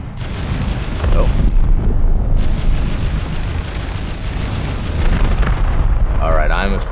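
Stingray cannon fire in the video game G-Rebels, a dense rumbling roar of heavy blasts and booms that fills the clip with only brief dips, loud and continuous, with a voice talking near the end.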